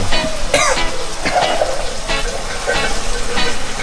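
Catfish frying in Thai curry paste in a hot pan, with a loud, continuous sizzle and crackle and a few sharp clatters as the pieces are tossed and stirred.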